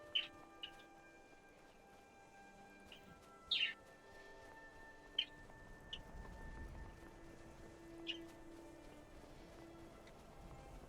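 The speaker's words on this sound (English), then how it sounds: "listen to the birds chirp in the wind" Birds in a Skyrim landscape give scattered short chirps and tweets, several brief calls spaced a few seconds apart over a faint windy outdoor ambience, quiet and somewhat distant, with no voices.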